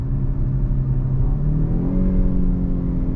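A 2021 Jaguar XF sedan accelerating hard in sport mode with manual paddle shifting, its engine note rising in a loud, steady rumbling drone close to the cabin, with no talking.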